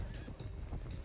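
In Red Dead Redemption 2, horses on the move give off a rough, continuous clatter of hooves with wind-like noise and a faint whinny, all heard briefly at close range.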